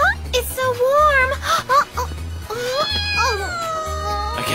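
A cartoon cat in an animated series gives several short, rising and falling meows, close and fairly loud, mixed in with voices talking and giggling.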